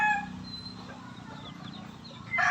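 A seven-month-old bulik breed chicken clucks faintly and intermittently against a steady farmyard background, with no voices.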